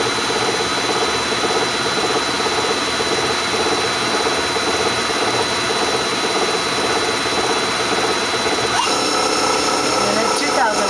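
A Tsugami BS-20BII CNC Swiss lathe runs at 1,000 RPM, giving a steady, loud mechanical whine and hum that holds unchanged from start to finish, with a faint shift near the end.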